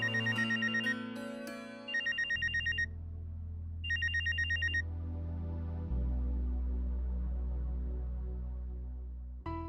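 A phone ringtone rings for an incoming call in a domestic TV drama scene, sounding in repeated electronic bursts with short gaps over a steady musical underscore, loud and close.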